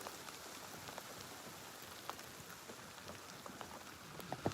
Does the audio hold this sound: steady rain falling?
yes